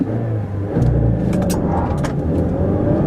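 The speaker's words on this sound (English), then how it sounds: "We're gonna do a really quick 0 to 60, just to give you a general idea." A 2014 Mazda3 with 155 horsepower accelerates hard from a standstill toward 60 mph, its engine note jumping in loudness and climbing steadily as it pulls, close and loud, with no talk.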